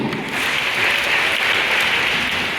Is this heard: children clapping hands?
yes